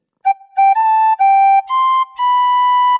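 Tin whistle playing the opening phrase of Happy Birthday, blown gently: six clear, pure notes, short at first and then longer, rising in steps, close and alone.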